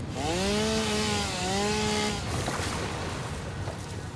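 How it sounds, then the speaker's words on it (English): Chainsaw cutting down an object in the video game Satisfactory, a loud revving buzz with rising and falling pitch that then settles into a rough grinding roar, close and continuous. "I saw you can cut it down with a chainsaw, so let's do it."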